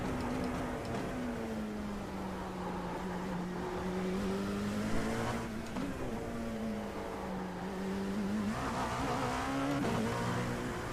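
A Dallara P217 LMP2 prototype race car in a racing game, its engine droning steadily with pitch sweeping up and down through gear changes and corners, loud and continuous without speech.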